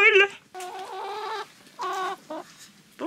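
Chickens clucking up close, a few loud squawky calls separated by short pauses, with no other noise around them.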